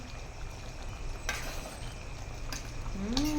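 Moringa leaves and onion are stirred in a cooking pan for ginisang monggo, giving a soft, steady sizzle with scraping strokes and a couple of faint utensil taps, no talking.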